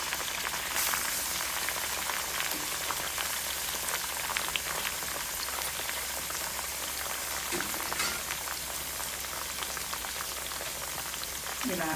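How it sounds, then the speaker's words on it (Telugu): Eggplant pieces frying in oil for a spicy brinjal curry: a steady, dense sizzle and crackle close by that keeps going without a break. "ఈ వాటర్లో పెట్టుకున్న వంకాయ ముక్కల్ని ఈ ఆయిల్లో వేసి ఆయిల్లో బాగా మగ్గనివ్వాలి."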